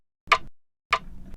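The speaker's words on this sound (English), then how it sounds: "just kind of a rim shot, but quite woody" Woody rim shot drum sample for a Live 11 pop remix, struck twice about half a second apart, each hit a sharp dry click with a short decay, fairly quiet and alone.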